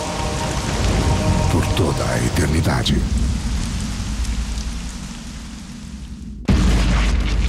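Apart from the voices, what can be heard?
heavy rain falling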